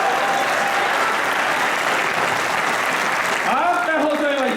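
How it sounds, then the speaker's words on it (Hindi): An audience at a college poetry gathering (kavi sammelan) applauds loudly in a dense, sustained burst of clapping, and a voice briefly comes through near the end. "जरा जोरदार तालियां बजाओ"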